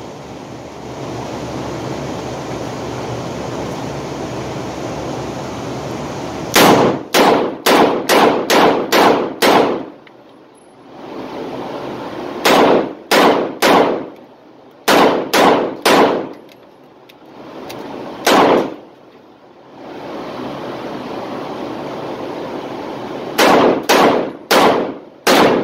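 Rapid volleys of .357 Magnum revolver gunshots at an outdoor training session, firing in quick strings of sharp, loud cracks separated by brief pauses, several clusters of five or six shots each.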